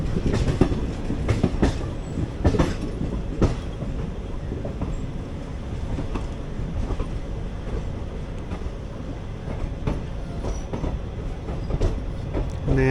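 A 06061 Summer Special Express passenger train rolls along the rails just after leaving Nagapattinam station, with steady loud rumble, rattling carriages and repeated clickety-clack wheel beats.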